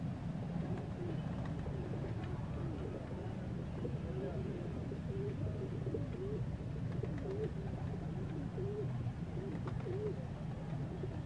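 Female slate pigeons on a rooftop loft in Pakpattan coo softly and repeatedly, their faint warbling notes drifting over a steady background hum.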